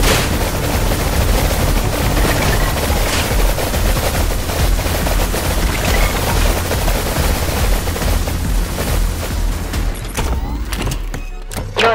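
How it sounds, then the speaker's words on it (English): Roblox game combat scene with a helicopter overhead: dense, continuous rapid gunfire and booming impacts fill the whole stretch, loud and unbroken, easing slightly at the very end. "It's a helicopter! Hurry!"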